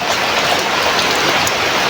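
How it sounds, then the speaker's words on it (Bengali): Heavy rain pours down steadily outdoors, a dense, loud, unbroken hiss of drops striking the ground and surfaces with no pauses. "ভালো বৃষ্টি হচ্ছে বাবা"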